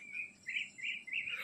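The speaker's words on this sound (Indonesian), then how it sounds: "Jadi ini ada burung peliharaan teman-teman." Pet songbird kept for singing contests chirping in short, bright repeated bursts close by, a quick series of high, clear calls with brief gaps, alone without talk.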